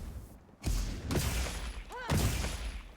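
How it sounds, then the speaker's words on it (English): Charged big bang hammer attack in Monster Hunter Wilds, a series of heavy impact thuds and crashing blows in quick succession, with a brief whooshing swish between hits, moderately quiet game audio. "Next is the charged big bang."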